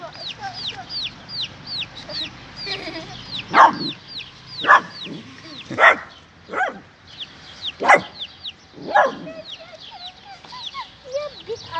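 A dog barks in about six sharp, separate bursts, over a steady chorus of high chick peeps, with no talking.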